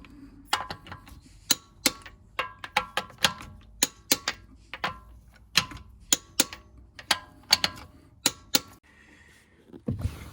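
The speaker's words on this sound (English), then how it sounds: "And finally, we torque up the wheel bolts." A torque wrench tightens the wheel bolts on an Audi A4 B7 after brake caliper work: a nearby series of sharp, separate clicks and taps spread irregularly over about ten seconds, with quiet gaps and no talking.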